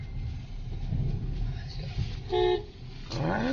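A short car horn toot sounds nearby amid traffic rumble and background chatter at Matnog port.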